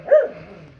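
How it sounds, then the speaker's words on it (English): A single short dog bark, loud and close, fading quickly into quiet. "So, you hear any dog barking?"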